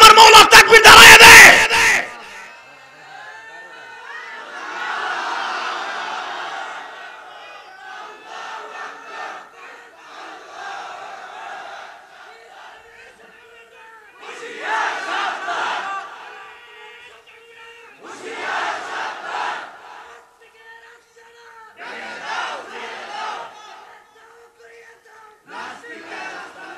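Big crowd chanting a religious takbir call in repeated bursts, loud shouted responses arriving every few seconds with quieter gaps between, following a sharp burst at the start.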